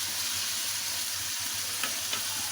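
Garlic, ginger and chicken fry in oil for a steady, moderate sizzle that continues throughout, with a couple of faint stirring clicks near the end.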